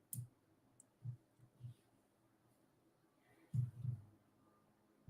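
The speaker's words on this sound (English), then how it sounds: "So clicking on my home page." A computer mouse clicks a few times, soft and close, in scattered single clicks and a quick pair near the end, with no talk over them.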